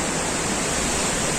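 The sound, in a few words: water rushing from Indrapuri Dam into Son river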